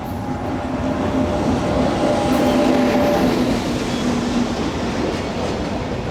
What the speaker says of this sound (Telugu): ఇటో ట్రైన్ వస్తుంది కదా అమ్మా